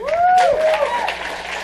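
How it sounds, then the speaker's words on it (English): Audience applause at a 2012 awards ceremony as winners from the Illini Secular Student Alliance walk to the stage, a steady broadband clapping wash with a voice or whistle-like tone gliding over it near the start. "so they get all this applause while they walk up here nice and slow"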